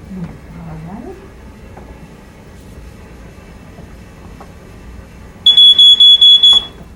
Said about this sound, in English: Why don't you show me how you test your detector?